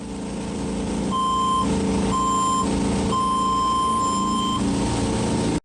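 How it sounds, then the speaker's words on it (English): Three long electronic warning beeps from a wakesurf boat's speakers sound one after another over a loud, continuous engine and water rumble; the last beep runs longest, with no talk. "it still does 3 beeps, but those beeps come through the speakers and cancel out the music"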